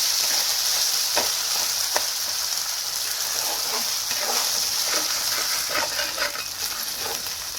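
Cauliflower sizzles steadily in a frying pan, a dense hiss broken by scattered scraping clicks as it is stirred, close and constant.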